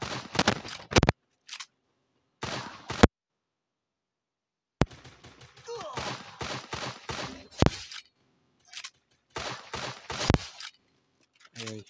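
Bursts of gunfire in the shooter game Free Fire, sharp clustered shots separated by silent gaps, with rapid volleys and single cracks across the stretch.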